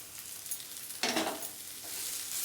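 Potato chop masala with coriander leaves fries quietly in a pan; a single spatula stir brings a short, louder scrape and burst of sizzle before it settles back to a soft crackle.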